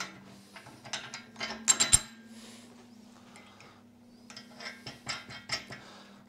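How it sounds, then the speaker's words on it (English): A steady low mechanical drone from an old windmill runs throughout, broken by irregular metallic clanks and rattles, some close and sharp, with a cluster of louder clatters midway. "You guys can probably hear my old windmill howling in the background."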